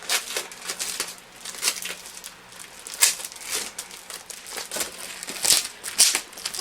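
Packets of scrapbooking papers are unwrapped up close, with irregular bursts of crinkling and tearing plastic that come in uneven clusters with brief pauses between them.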